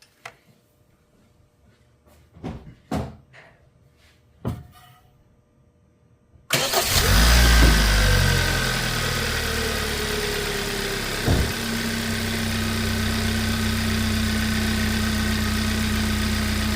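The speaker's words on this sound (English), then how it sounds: "let's see what happens when we start a car" A car engine cranks and catches after several faint clicks and knocks in near silence, then settles into a steady, loud idle with a constant hum and a brief bump partway through.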